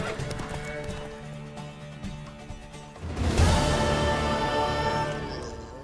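A horse in The Witcher 3 neighs loudly and close, hooves clopping as it moves, its whinny swelling midway over a low musical bed with little talk.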